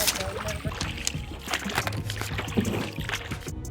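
A boat crosses the Ganges river, with steady water sloshing and hull splashes under a constant low engine-like rumble, people talking nearby throughout.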